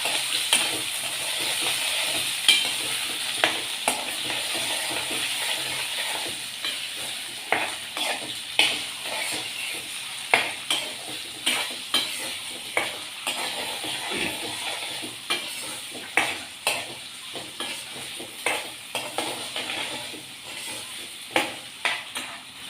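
Fresh new potatoes sautéing in a pan with a constant hiss of frying, broken by a long run of regular spatula scrapes and knocks that come faster toward the end; nobody speaks.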